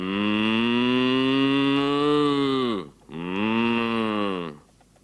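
Two long, deep moos from a cow, close and loud, the first held for nearly three seconds, the second shorter, with a brief gap between.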